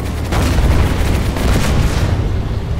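Grenade explosions in Planetside 2, a dense rumbling wash of booms and distant gunfire that continues steadily and loudly with no talk.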